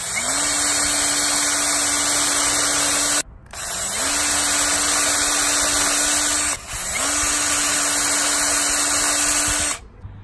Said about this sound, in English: get our pre-drills done.